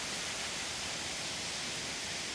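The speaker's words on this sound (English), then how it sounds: "I can't see the waterfall, but I can hear it from here." A waterfall rushes somewhere out of sight in forested hills within a wildlife sanctuary, a steady broadband hiss of falling water heard from a distance with no other sounds over it.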